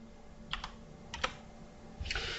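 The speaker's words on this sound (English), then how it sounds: "So I'm going to type console dot write line." Short bursts of keystrokes on a computer keyboard, three quick clusters of clicks close up in an otherwise quiet room.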